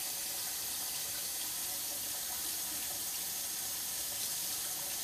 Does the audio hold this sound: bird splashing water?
yes